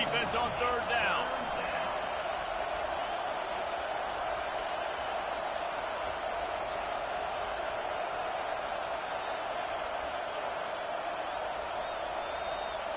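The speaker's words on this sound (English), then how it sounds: "Decibels rising as the crowd gets behind this defense on 3rd down" A stadium crowd roars in an American football video game, Arizona against Missouri, as fans back the defense on third down; a dense, steady wall of cheering holds at an even, loud level throughout.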